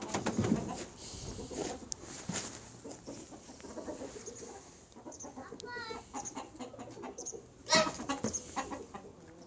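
Hens cluck softly in a yard, mixed with cooing birds and a few faint voices in the background.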